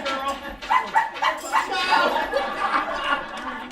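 A pet dog named Princess, loose on the stairs of an old stone house, gives repeated short yips and whimpering barks through the clip, mixed in with close speech.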